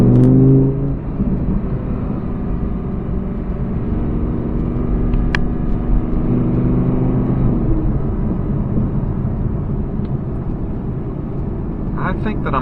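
A 2017 Audi R8 V10 Plus engine drones steadily and loud from inside the moving car, holding a sustained rumble with a brief rise partway through and no clear revving peaks.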